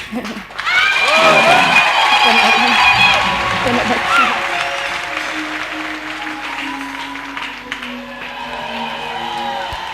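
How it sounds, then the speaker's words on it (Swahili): Loud church congregation applause mixed with high trilling ululation and cheering at a worship service, strongest at the start and settling into steady clapping and shouts, with voices throughout. "Shangilia Bwana Yesu kwa makofi na vigelegele."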